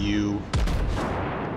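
Ship guns fire in World of Warships, a single heavy boom that cuts in over steady game noise and fades into a rumbling tail, with no talk.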